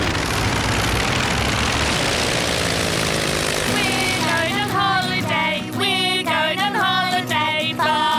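Cartoon aircraft engine running loud and steady for takeoff, its droning hum shifting into rising whirring tones over the last few seconds with no talk.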